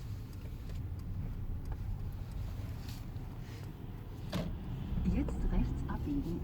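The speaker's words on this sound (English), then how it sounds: "we will go on the bumpy road now" Interior cabin sound of a Mercedes EQS electric car driving over a bumpy road: a steady low rumble of tires and suspension with occasional thuds and creaks, rising slightly in intensity toward the end.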